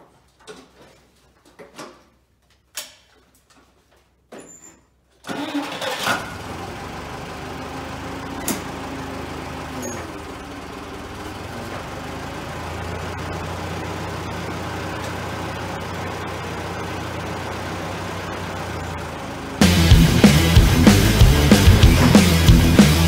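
A forklift engine rumbles to life after a few faint knocks, idles steadily while the machine rolls toward and over a steel toe boot, then roars much louder as it revs near the end.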